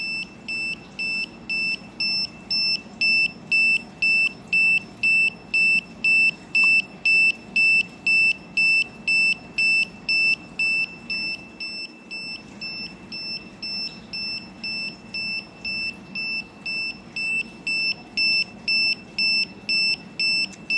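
The water level indicator on a battery water distiller beeps rapidly in a steady train of short, shrill pulses, close and loud, with a faint hum underneath and a brief pause partway through.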